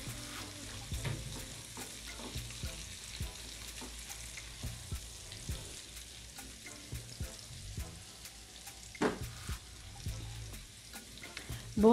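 Crushed garlic, about a tablespoon, sautéing in a pan for restaurant-style chicken manchurian, giving a steady close sizzle with soft stirring scrapes and small pops throughout, no talking.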